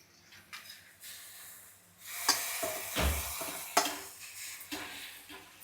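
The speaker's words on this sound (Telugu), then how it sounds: "రెడీ అయిపోయిన ఈ పాస్తాని వేసుకుందాం" Cooked pasta tipped into a hot pan with oil and salt, then stirred, giving scraping pot-and-utensil clatter over a soft steady sizzle, with a louder thump midway.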